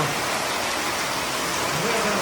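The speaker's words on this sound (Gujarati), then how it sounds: "હા અમે અંદર બેઠા હતા ને વરસાદ શરૂ થઈ ગયો છે." Heavy rain pours down in a village, a dense, steady hiss of downpour close by that stays loud and even throughout.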